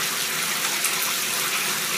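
Shower running in a bathroom, a loud steady hiss of spraying water that stays constant throughout with no talk.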